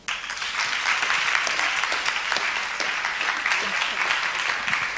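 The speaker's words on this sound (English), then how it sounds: "Another round of applause." Applause rises from a conference audience at a women's event in Nigeria, a sustained crowd of clapping hands that starts sharply and holds steady at moderate loudness for several seconds.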